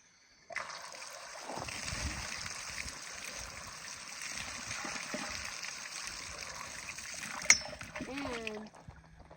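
Drinkable water runs from a tap at a campsite, a steady close hiss and splash starting abruptly and continuing throughout, with a brief clank near the end before it stops.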